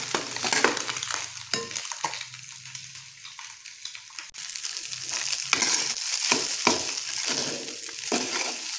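Egg and cooked rice stir-fried together in a pan for homemade nasi goreng teri, with anchovies to follow: steady close sizzling and frying broken by repeated scraping, tossing stirs of a spatula, and no talking.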